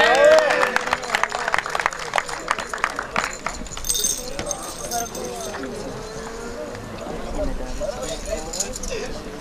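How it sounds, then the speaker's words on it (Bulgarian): Applause breaks out for the champions at a municipal football tournament final in Harmanli, with sharp claps strongest at first and then thinning into crowd murmur while a voice talks over the noise. "И аплодисменти на шампионите."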